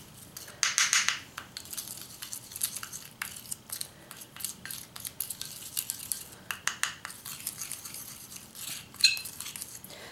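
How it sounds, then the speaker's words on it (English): Clay paste with rose water being stirred in a bowl, giving repeated soft scraping and clinking strokes of a utensil against the dish, close and fairly quiet, with no talking. "and I just keep mixing"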